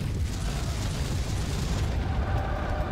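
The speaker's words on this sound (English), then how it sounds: "we got a Urban Mech AC-20 burst fire" An Urban Mech firing its AC-20 autocannon in bursts in MechWarrior 5: Mercenaries, a dense, continuous roar of heavy booming blasts that stays loud and rumbling throughout.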